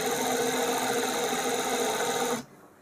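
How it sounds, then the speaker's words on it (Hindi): An overlock sewing machine runs stitches in a fast, steady whirring hum with rapid mechanical ticking, loud and close, then stops abruptly near the end, leaving quiet. "थोड़ा सा चलाकर टांके को चेक करें"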